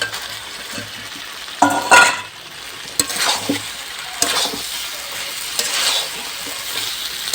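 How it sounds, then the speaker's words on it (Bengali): Fried potatoes are stirred into chicken curry in a pan, a soft background sizzle broken by several close scraping and clinking stirs at irregular moments. "ভেজে রাখা আলুগুলো আমি দিয়ে দেবো।"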